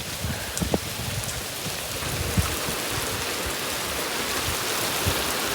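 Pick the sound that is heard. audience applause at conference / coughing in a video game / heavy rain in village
heavy rain in village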